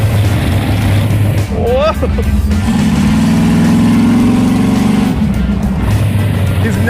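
A rear-engine mini truck makes an autocross pass, its mid-pitched engine droning loud and steady with a sustained rising pull through the middle, while a voice exclaims over it near the start.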